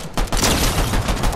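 Rapid, loud shotgun blasts and gunfire crackle through a Fortnite Zero Build fight, several overlapping bursts packed densely across the whole moment with no pause.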